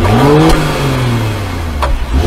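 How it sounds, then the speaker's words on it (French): A Mercedes S500 engine revs loudly and close, its pitch climbing and falling through the exhaust, with a couple of sharp pops along the way. "des magnifiques pots d'échappement avec un super son"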